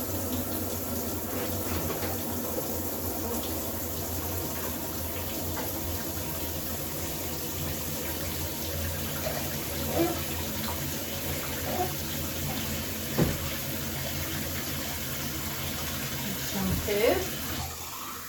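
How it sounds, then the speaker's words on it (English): Tap water steadily runs into a dog grooming tub with the drain valve closed, a continuous broadband rush with occasional splashes and clunks, heard up close while a person talks over it. "close the valve so no water goes out, and then we just fill it manually"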